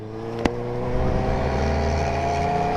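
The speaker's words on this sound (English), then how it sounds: "I can feel the rumble from his exhaust in my chest." A car's exhaust rumbles with a deep, steady low drone, growing heavier as it accelerates, heard close from inside a following vehicle, with a sharp knock near the start.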